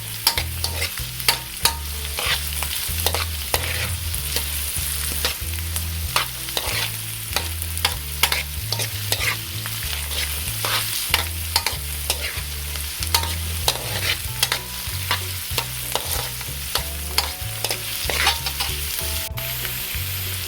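Garlic and onion fry in a pan for sardines with chayote while a spatula stirs constantly, producing repeated scraping strokes and clicks over a steady sizzle, with a low tonal hum running underneath throughout.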